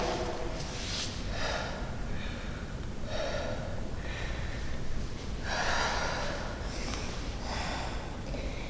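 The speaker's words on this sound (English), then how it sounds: "Take a rest in your child's pose. Breathe for a little while here." Slow, audible breaths taken while resting in child's pose during a home strength and mobility workout, with soft inhales and exhales coming in a loose rhythm of close, breathy bursts.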